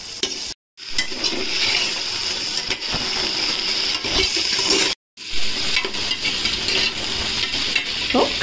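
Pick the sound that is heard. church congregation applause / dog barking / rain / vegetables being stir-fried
vegetables being stir-fried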